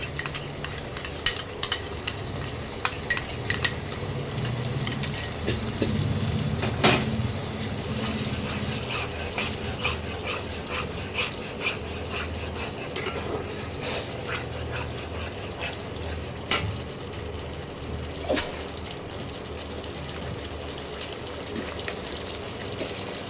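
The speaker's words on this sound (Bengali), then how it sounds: "মশলাটা ভাজা ভাজা হচ্ছে, তেল ছাড়তে আরম্ভ করছে।" A thick paste sizzles gently in oil while a spoon scrapes and stirs the pan in irregular knocks, fairly close, with no voices.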